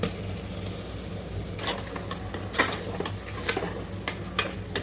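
Mushrooms with chilli powder and salt frying in a pan, a quiet sizzle with sparse, sharp clicks of the spoon against the pan.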